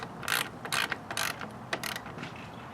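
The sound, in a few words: ratchet tightening radiator bolt into plastic, 2013 Kia Optima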